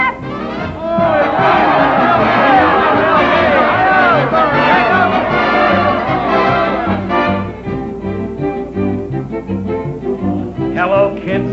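A large crowd of teenage fans shouts and cheers loudly and continuously, a dense roaring babble that swells early and stays high before thinning slightly toward the end.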